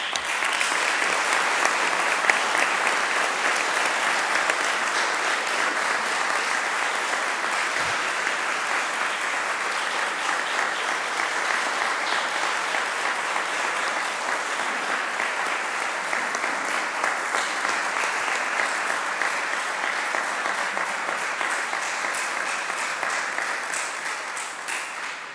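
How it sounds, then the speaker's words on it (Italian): Long, steady applause fills a city council chamber, many hands clapping at an even level for the whole stretch and tapering slightly near the end. "Grazie dell'applauso, che è più lungo di quanto pensassi"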